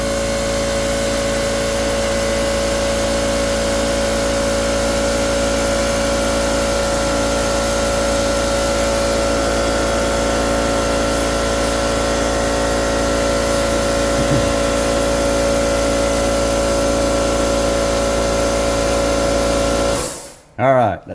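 An air compressor runs in a workshop while a 1956 Ford is being painted, a loud, constant motor hum with a steady tone that cuts off abruptly at the very end.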